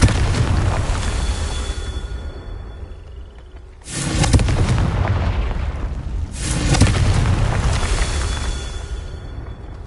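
Two heavy booming blasts of the Confringo fire spell in Hogwarts Legacy, each erupting suddenly and rolling out over a few seconds, set against a low continuous rumble of game ambience.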